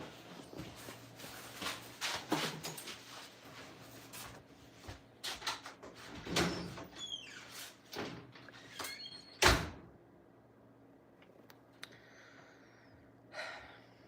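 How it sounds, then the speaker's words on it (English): Sliding or creaking door sounds are shut carefully at home, with soft thumps, rustles and breathing spread quietly through a mostly hushed room and one sharper knock midway. "Please shut the door really softly so it doesn't wake everybody up."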